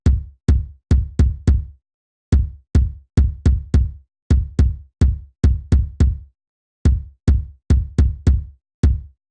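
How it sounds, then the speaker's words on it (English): Simple acoustic kick drum pattern from a Logic stock kit, punchy low thumps in short grouped bursts with brief gaps between phrases, dry and close, played alone without other instruments or voices. "I just played this very simple, straight to the point kick pattern"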